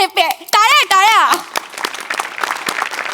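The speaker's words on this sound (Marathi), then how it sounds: "टाळ्या." Audience applause breaks out at a live Marathi comedy show after a burst of loud voices, a dense patter of clapping that carries on steadily to the end.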